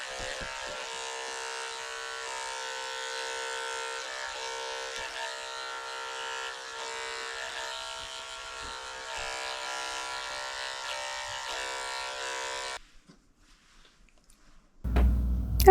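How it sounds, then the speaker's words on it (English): Electric clippers shaving the hair on the inside and outside of a dog's ears, a steady, close buzzing hum for about thirteen seconds that stops abruptly, followed by near silence and a brief rustle at the end. "I'm working my way around to his ears, shaving the inside and the outside of his ears"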